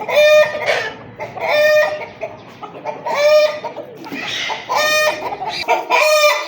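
Chickens cluck and a rooster crows repeatedly in a small backyard bird setup, loud close calls arriving in bursts every second or so over a busy background of scratching and fowl chatter.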